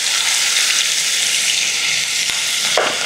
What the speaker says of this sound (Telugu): కొంచెం వేగనిద్దాం ఉల్లిపాయలని ఒక 2 to 3 మినిట్స్